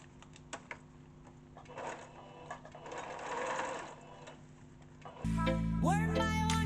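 Sewing machine stitching around a piece of upcycled clothes-bag fabric and adding extra stitching over velcro strips, a steady close mechanical chatter that stops near the end as loud music takes over.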